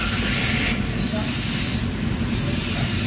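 Steam hissing from an overheating Toyota Avanza engine, a loud broad continuous rush that swells and eases in two bursts over a low engine rumble.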